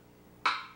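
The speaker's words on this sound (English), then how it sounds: "the sounds made by the forcible striking of a stick on a hollow log" A single light, hollow knock, like a stick tapped gently on a hollow log, sharp at the start with a brief resonant ring.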